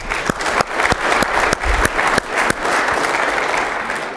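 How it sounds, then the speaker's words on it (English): A seminar audience claps for itself in a round-table business session, sustained dense applause with a few sharper individual claps standing out, steady and fairly loud throughout. "Give yourselves a big hand clap."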